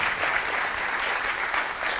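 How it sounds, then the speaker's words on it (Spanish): Steady applause from an audience at a tech expo talk, a continuous even wash of many hands clapping with no break. "Un aplauso."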